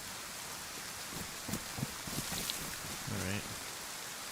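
Steady rain falls in the survival game DayZ, set on the Chernarus map, a constant hiss throughout with someone speaking briefly over it.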